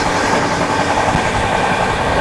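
A 12863 SMVT Bengaluru Superfast Express, running from Howrah to Tirupati, rolls along the rails beside Chilika Lake with a loud, steady rumble and continuous wheel clatter, close and unbroken throughout.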